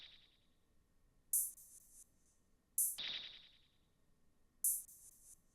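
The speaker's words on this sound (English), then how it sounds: "Then I'm going to add a perk and an open hat that are going to sound like this" Sparse percussion loop built in FL Studio: three bright, crisp open hi-hat hits spaced about one and a half seconds apart, with a snappy perc accent on the second, ringing briefly over a quiet bed, no voices.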